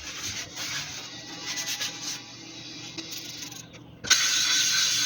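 A KosiM 1200 grit sharpening stone being flattened gives a steady close scraping rub of abrasive on abrasive, wavering in strength, with a brief lull before a louder, brighter grinding hiss takes over near the end.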